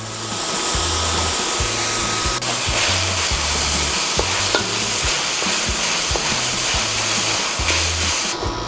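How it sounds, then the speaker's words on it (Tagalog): Onion browning in a pan with a little salt for Filipino-style chicken curry, loud continuous sizzle with rhythmic scraping stirs repeating about every half second, no talk. "Ibabrown lang natin ang ating onion para lumabas ang kanyang lasa."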